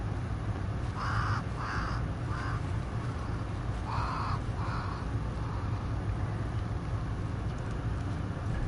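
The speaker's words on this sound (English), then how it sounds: "Crows." Crows cawing in the video game Banishers: Ghosts of New Eden, several harsh caws in short bursts over a steady rain-like ambient bed, moderately distant.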